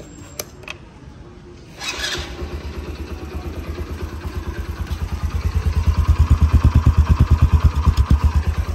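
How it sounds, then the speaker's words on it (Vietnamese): An original 2006 Honda Cub 90 motorcycle is started after a couple of clicks, then settles into a rapid, steady putter that grows louder and more pronounced as it idles, close to the microphone. "Rồi nổ máy sơ."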